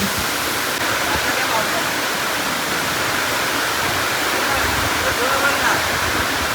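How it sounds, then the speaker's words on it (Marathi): A constant, loud roar of falling water, dense and unbroken throughout, from a rain-swollen waterfall in the Konkan. "वरून जे पाणी येतं डायरेक्ट धबधब्यावर खालती पडतं"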